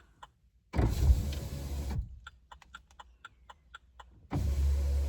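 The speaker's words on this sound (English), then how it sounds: "We're just going to open both windows." Electric windows on both sides of a Vauxhall Corsa whir open in two distinct motor runs, close inside the cabin, with a quiet patch of small clicks and ticks between them.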